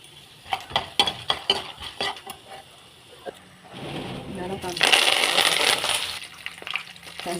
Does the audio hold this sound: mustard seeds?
yes